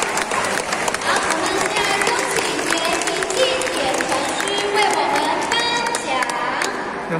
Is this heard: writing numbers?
no